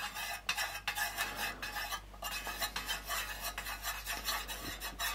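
Kerasoy Pillar 4120 wax melt mixture being stirred in a container, with repeated scraping and rubbing strokes in a steady rhythm, close and moderately loud, with no voices.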